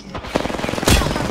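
Triple Take rifle fire in the video game Apex Legends, a rapid loud burst of sharp gunshots close up, with a heavier blast near the end.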